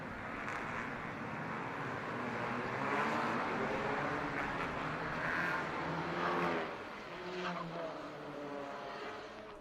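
TCR touring race cars on a formation lap at Interlagos give a steady, distant engine drone with broad rushing noise that swells and fades slightly, fairly faint throughout.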